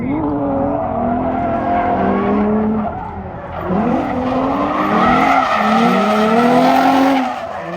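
A drift car skids around a competition course, its tires squealing in long wavering, sliding tones over a steady engine drone. The squeal swells and fades, then rises again loud and close for the second half, with no speech.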